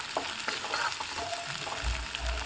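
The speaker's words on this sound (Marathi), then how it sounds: "मिक्स करून घेऊ आपण व्यवस्थित." Turmeric is mixed into hot oil in a pan for methi bhaji, giving a soft continuous sizzle with faint stirring scrapes, fairly quiet and close.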